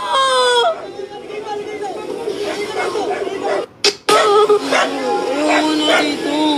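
A dog barks and yips several times at close range amid lively voices and background chatter.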